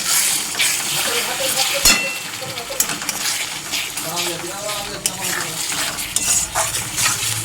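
Spiced egg curry being stir-fried in a pan until the oil separates from the masala: a continuous sizzle with repeated clinks and scrapes of a metal utensil against the pan, close by.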